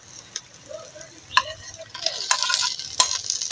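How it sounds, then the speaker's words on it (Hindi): Garlic stirred and fried in a pan during outdoor garden cooking in rainy Neelum Valley, Kashmir, with faint sizzling that grows louder and brief ticks and scrapes, close and short. "लहसुन शामिल कर दूंगी"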